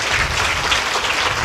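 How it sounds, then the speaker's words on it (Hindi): Applause from the audience at a Shrimad Devi Bhagwat Katha religious discourse, welcoming a couple to the stage, a steady, fairly loud patter of clapping with no pause. "तालियों से स्वागत करें।"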